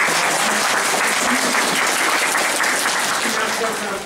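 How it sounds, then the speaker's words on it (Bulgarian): At a student art exhibition in Pomorie, an audience breaks into loud, dense applause, a continuous roar of many hands with a murmur of crowd voices underneath. "Дами и господа, аплодисменти!"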